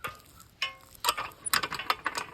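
A chain vise on a DEXSO tripod pipe stand latching and ratcheting tight, a few sharp metallic clicks and clacks in close succession, fairly quiet and close.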